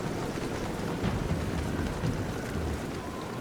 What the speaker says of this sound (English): You hear the wind, you see the rain.